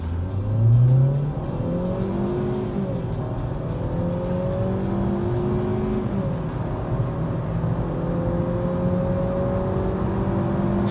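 A Hyundai i20 engine strains and revs under hard throttle while climbing a steep hill, a steady loud drone with rising and falling harmonics throughout, no talking.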